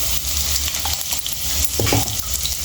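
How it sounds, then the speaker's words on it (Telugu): Ginger-garlic paste fries with reddened onions and coriander in a pan, a loud continuous sizzle with stirring scrapes and clatter throughout. "చూడండి, ఇట్లా మంచిగా అల్లం వెల్లుల్లి పేస్ట్ కూడా మంచిగా ఫ్రై అయిపోయింది"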